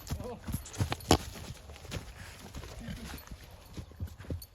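Hooves clip-clop at a walking pace on hard ground, with people talking nearby over the steps and a brief sharp knock.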